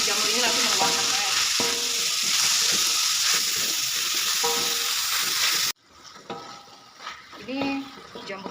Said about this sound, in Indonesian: Kita oseng ya, kita aduk terus sampai si jamur ini langsung mengeluarkan air.